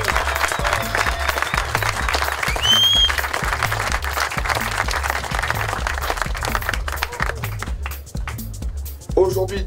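Crowd applause at the Corsica Classic sailing prize ceremony in Bonifacio, a steady outdoor clapping that swells and holds, then thins toward the end as scattered claps trail off, under a low rhythmic background beat.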